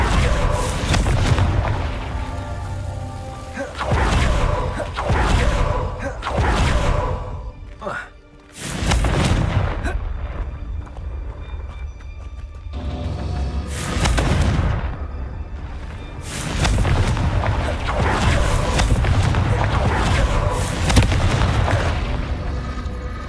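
Repeated Confringo fire-curse explosions in Hogwarts Legacy, loud booming blasts in quick clusters separated by brief quieter gaps, with deep rumbling tails and a voice casting spells between them.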